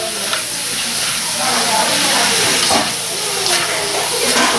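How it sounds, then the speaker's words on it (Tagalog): Sliced cabbage for pancit canton sizzles and hisses steadily in a hot pan, with faint stirring scrapes and a spoken voice over the continuous frying. "So, continue lang ang paggisa."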